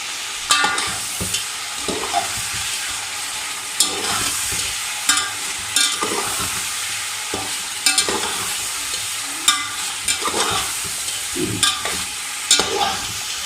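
Chicken frying with julienned ginger for chicken roosh, a continuous loud sizzle broken by repeated spoon-scraping strokes every second or two, close by and with no talking.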